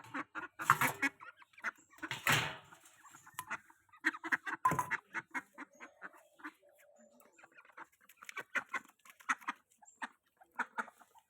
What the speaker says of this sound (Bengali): এখন আমি আমার হাঁসগুলোকে খুলে দিব।